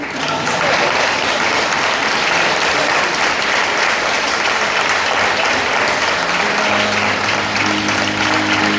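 Wedding guests give the newlyweds Edwin and Marie loud, sustained applause, a thick continuous roar of clapping close by, with a low musical tone beginning to sound underneath near the end.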